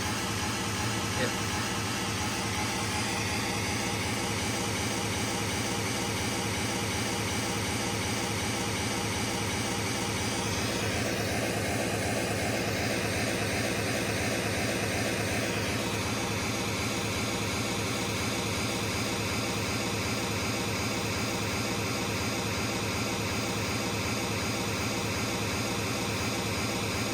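A steady, broadband periodic pink noise calibration signal plays continuously from a Blu-ray player through a home theater speaker, unchanging and fairly quiet throughout, with slight shifts in tone partway through.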